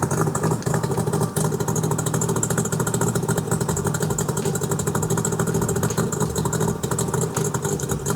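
An old Mercury 2-stroke outboard engine that sat outside for five years, running at a steady, loud, buzzy idle with a rapid even pulse throughout and a brief dip near the start.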